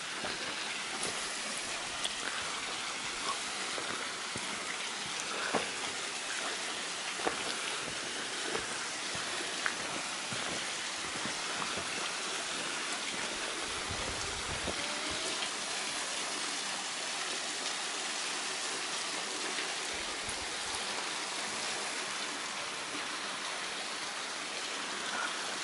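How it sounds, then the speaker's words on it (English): A waterfall in Red River Gorge gives a continuous, even rush of falling water, steady and moderately distant, with scattered splashes and no talking. "Waterfall. It goes way around."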